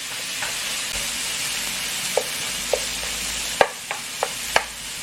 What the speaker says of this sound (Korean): 자 이렇게 갈색이 나게끔 쫙 볶아줍니다